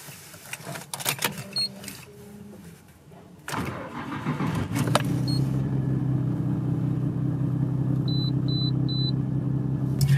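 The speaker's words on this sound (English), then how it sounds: "1995 R33 GTR. Cold start." A 1995 Nissan Skyline GT-R R33 cold start: cabin ticks and warning chimes, then the starter cranks and the engine catches into a steady, loud idle rumble, with a few beeping chimes over it.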